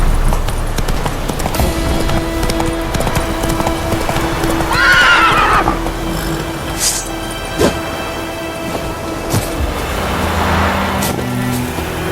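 Roach the horse clip-clops along at a gallop in The Witcher 3, a continuous loud beat of hooves, broken by a high neigh and a later snort, with no one speaking.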